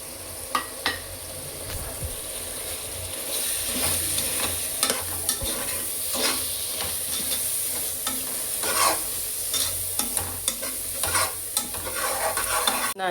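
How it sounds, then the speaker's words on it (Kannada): A spoon scrapes and stirs MTR bisi bele bath powder into a sizzling tempering in a pan, with repeated clinks and strokes over steady frying crackle and no talking. "ನಾನಿಲ್ಲಿ MTR ಬಿಸಿಬೇಳೆ ಬಾತ್ ಪೌಡರ್ ಸೇರಿಸ್ಕೊಳ್ತಾ ಇದ್ದೀನಿ."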